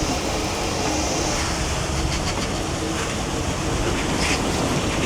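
Water sprays and splashes steadily against an outside window pane during rinsing, a continuous close hiss and patter that holds even throughout.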